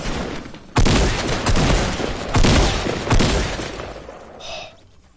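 Rapid bursts of gunfire from the video game Fortnite, several loud volleys of shots in quick succession, fading out near the end.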